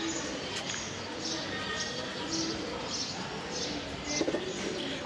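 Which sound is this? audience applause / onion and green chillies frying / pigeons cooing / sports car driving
pigeons cooing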